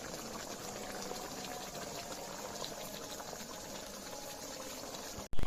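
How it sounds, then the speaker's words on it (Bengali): A pot of taro curry with mustard boiling steadily, a continuous close bubbling and burbling that stays even throughout, ending with a sudden louder knock, no voices. "ভালো মতো ফুটে গেছে, রান্নাটাও প্রায় হয়ে এসেছে।"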